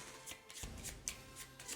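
A deck of game cards being shuffled during a tabletop session, with several quick riffling bursts and soft card slaps, close and quiet.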